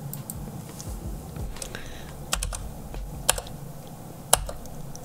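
Python code being typed on a computer keyboard, a steady patter of key clicks with a few sharper, louder strikes standing out, close and alone without any talk.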